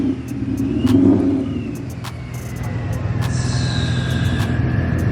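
A deep 5.0 V8 engine rumbles and revs nearby, swelling briefly then settling into a steady throaty idle, with a few clicks and faint higher tones.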